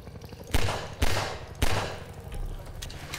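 Barrel explosions blowing up barnacles in Half-Life 2: three sharp, loud blasts about half a second apart, each with a brief rumbling decay, followed by a low lingering rumble.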